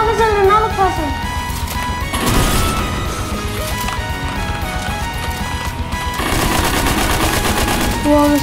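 Rapid bursts of weapon fire in the Fortnite battle royale game, loud, close rattling volleys in two main clusters amid game music and effects, with a voice talking over the action.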